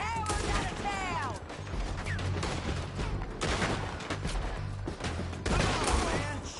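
Gunfire in a Western shootout in the video game Red Dead Redemption 2: a loud, sustained barrage of overlapping shots and bursts, with brief swells of heavier fire and occasional shouted voices mixed in.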